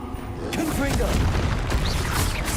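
Confringo fire spell explosions in Hogwarts Legacy, a dense run of booming blasts and crackling bursts that fill the whole stretch, with game voices calling out over the noise.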